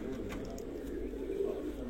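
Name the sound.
pigeons cooing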